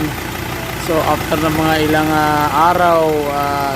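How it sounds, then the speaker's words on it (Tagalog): A rebuilt Ford Ranger Wildtrak engine idles after a general overhaul with a steady, mid-pitched running hum, while someone talks over it throughout. "tingnan natin mabuti kung ano yung tunog ng makina"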